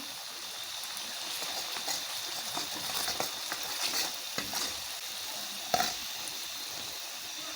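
Masala fries in a pan with turmeric, kasuri methi, red chili powder and salt as it is stirred, a continuous hissing sizzle with soft scraping strokes and one sharper clack, close and steady with no voices.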